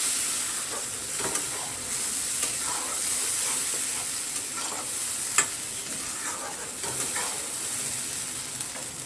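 Kadai paneer masala fries in a pan over a medium flame, a constant close sizzle with soft scrapes and clicks of stirring scattered throughout.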